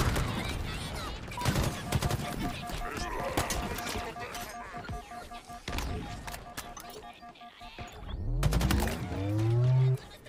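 Bursts of rapid gunfire crackle alongside game sound effects and voices in Halo Infinite, ending in a loud rising whoosh and a low rumble.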